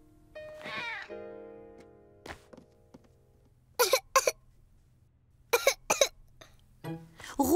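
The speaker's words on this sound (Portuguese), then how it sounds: "sentia-se quente e estava a tossir." Cartoon child character coughs in short harsh bursts, two clusters of two or three coughs and a final one, preceded by a whiny, wavering vocal sound in a quiet animated scene.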